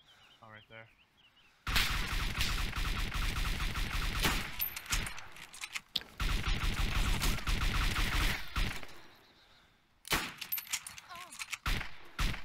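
Rapid gunfire from the survival video game DayZ, dense sustained bursts with short breaks between them, loud and close, following a faint quiet opening.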